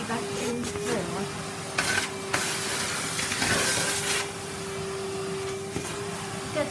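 Vacuum cleaner running downstairs in a house, a steady close whine and hiss that surges as it is pushed across the floor, with a person talking over it.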